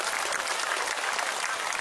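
An audience at an Islamic sermon event bursts into steady, dense applause, a loud, continuous wash of clapping hands from a crowd filling the whole moment.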